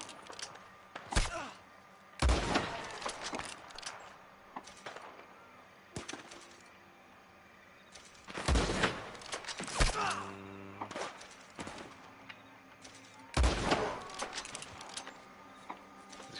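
Sporadic gunfire in the Red Dead Online western video game sounds as several sharp, loud shots separated by long gaps, with quieter game ambience between them.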